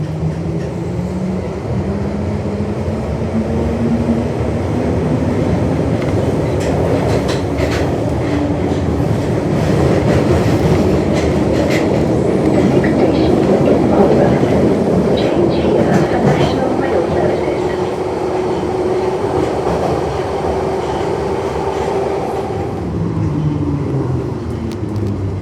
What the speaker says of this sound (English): here I am on my first train, which is one of the Bakerloo Line 1972 stock trains